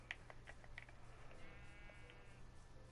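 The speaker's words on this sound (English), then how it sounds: "Hi sheep." A sheep bleats in a Minecraft world, several short clear bleats rising over faint clicking, likely keyboard typing, with no speech.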